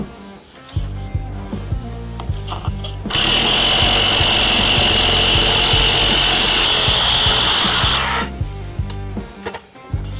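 A power saw grinds loudly and steadily through sewer drain pipe for several seconds, with clattering, rattling tool noise before and after the cut.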